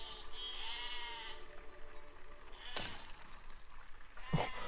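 Sheep bleating in the siege-building game Besiege: a drawn-out wavering bleat, then a sharp crash and a brief burst near the end, all over a steady background hum.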